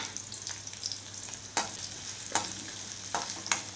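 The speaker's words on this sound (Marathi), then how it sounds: "कांदा मिरच्या थोड्या आपण भाजून घेऊया तेलात" Onion and green chillies fry in hot oil for a Malvani-style fenugreek leaf dish, giving a soft steady sizzle broken by four or five sharp spatula scrapes and clicks at an even pace, close and fairly quiet.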